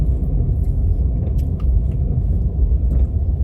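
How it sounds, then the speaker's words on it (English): A big Warburton's lorry pulling straight out into traffic, heard as a steady loud low engine rumble close by, alone without talk. "there's a big Warburton's lorry, it's just pulled straight out"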